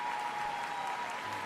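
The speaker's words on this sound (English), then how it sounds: "And they're leading the applause" Sustained applause fills an arena after a men's short program at the Grand Prix de France figure skating event, a dense, even wash of clapping that holds steady throughout.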